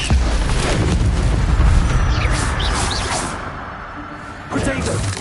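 Incendio fire spell blast in a video game, a loud roaring burst with whooshing flame and rumble that fades out, then a second surge near the end, with voices mixed in.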